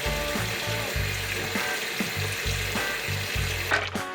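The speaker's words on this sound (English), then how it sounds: "Now all we have to do next is just rinse it." Running tap water splashes over salted cabbage being rinsed in a sink for kimchi, a continuous close hiss with intermittent louder splashes and handling.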